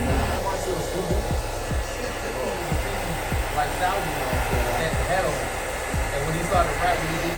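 A hair dryer blows a constant loud whoosh onto a man's medium-length layered hair during a haircut, with faint rhythmic ticking sounds underneath.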